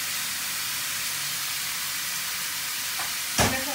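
Onion frying in hot oil in a pan gives a steady, dense hissing sizzle, loud and close, with one brief clatter near the end.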